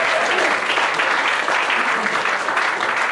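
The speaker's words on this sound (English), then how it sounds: "another round of applause for all the TechPint crew" A crowd at a TechPint tech gathering in Akron gives a round of applause for the event crew, a full, steady clapping that stays loud and dense from start to finish.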